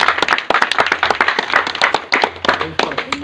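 Rhythmic group clapping at a wedding ceremony, sharp, evenly spaced claps from several people close by, keeping a steady beat with brief pauses and a little voice underneath.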